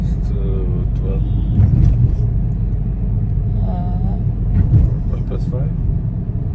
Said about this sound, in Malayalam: രാവിലെ 5 മണിക്ക് തുടങ്ങിയ ഡ്രൈവിംഗ് ആണ്.